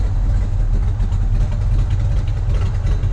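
A 1965 Pontiac GTO convertible's 389 Tri-Power V8 idles steadily, its exhaust a deep, loud, continuous low rumble heard up close with no talking.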